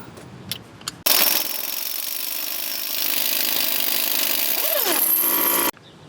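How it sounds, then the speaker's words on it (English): An impact wrench rattles loudly in one sustained burst of about four and a half seconds, removing the front CV axle nut on a Ford Escape, with a few faint knocks before it starts. "Next, we're going to take and remove the axle nut."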